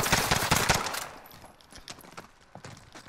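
Gunfire in a battle royale video game: a rapid burst of loud shots at the start, thinning into scattered quieter pops and clatter.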